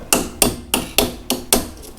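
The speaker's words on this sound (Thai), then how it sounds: "เอาด้ามแผ่ควงตอกนะมันก็จะหลุดออกมาแบบนี้นะ" A pin is driven out of the shaft tip of a Hatari 18-inch fan by striking it with a screwdriver handle, giving six sharp, close knocks at a steady rhythm of about one every quarter second, with no voices.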